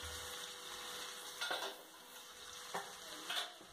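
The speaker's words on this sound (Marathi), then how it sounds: "टोमॅटोला पण चांगलं फ्राय करून घ्यायचं याच्यामध्ये." Finely chopped medium tomato and capsicum fry quietly in a pan for tawa paneer, a faint sizzle broken by a few soft scrapes and clinks of a spoon stirring.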